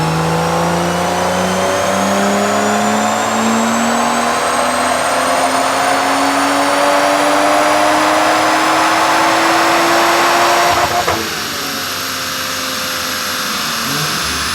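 A heavily boosted BMW 335xi roars on a dyno at around 30 psi, its engine note climbing steadily in one long wide-open pull before cutting off sharply and settling to a lower drone.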